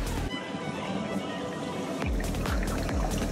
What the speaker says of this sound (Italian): Voi la ruotate e parte la cascata.